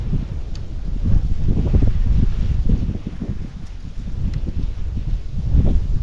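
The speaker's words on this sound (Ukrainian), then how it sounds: "О, який вітер" Strong wind buffeting the microphone beside a river in cold spring weather, in heavy, low rumbling gusts that rise and ease throughout, loud and close.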